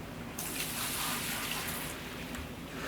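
A bucket of water tips onto a gold-mining sluice in the Gold Rush video game, pouring in a short, steady rush of splashing water that holds for about a second and a half, then eases off.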